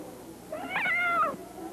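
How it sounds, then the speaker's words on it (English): A frightened cat in an old 1930s–40s horror film trailer lets out a single rising, wavering meow-yowl lasting under a second, loud and alone over a faint background hiss. "Yet a cat arches its back in fright."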